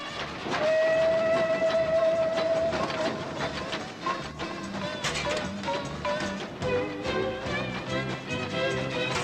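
Steam train whistle blowing a long sustained tone over clattering, rumbling railway noise, followed by shorter whistle bursts amid the busy mechanical din.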